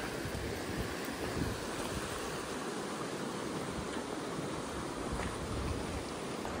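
Steady broadband rush of river water flowing at a roadside stop along a highway, continuous and fairly close, with some wind buffeting the microphone and no speech.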